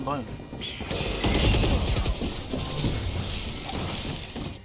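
Rapid gunfire in a competitive Valorant-style shooter match, with bursts of sharp automatic shots and crackling impacts layered under excited players talking over voice chat.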